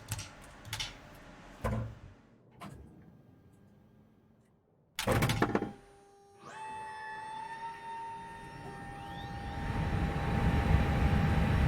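Airbus A320neo with LEAP-1A engines powering up in a flight simulator: a few cockpit switch clicks and a loud thump, then rising electrical whines and tones swelling into a steady building hum, with no talk.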